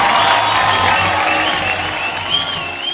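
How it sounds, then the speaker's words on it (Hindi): Dense, loud applause from the audience at a Filmfare awards ceremony, steady and sustained throughout, with a faint crowd murmur beneath. "तालियां हो जाए इनके लिए"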